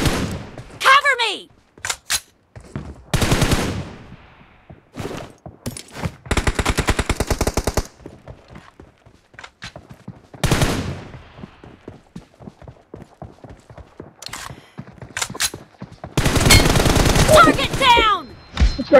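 A shooting video game fires bursts of rapid gunfire in several loud volleys, separated by quieter gaps with smaller shots, and players talk between the bursts.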